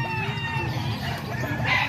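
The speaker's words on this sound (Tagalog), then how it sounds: "Ito mga manok to ni Kuya Dama." Kuya Dama's chickens and roosters crowing and clucking together in a busy, continuous farmyard chorus, fairly close, with a faint voice in the background.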